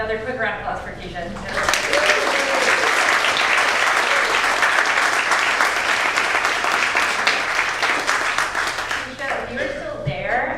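Steady, full applause from an audience honouring a speaker at a disability storytelling event, holding strong for most of the stretch before thinning toward the end, with faint voices underneath.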